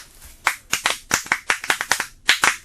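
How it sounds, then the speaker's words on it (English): Applause for a child in a classroom setting: a dozen or so sharp, close hand claps in a loose, quick rhythm, loud and clear with no talking. "give her a sound clap"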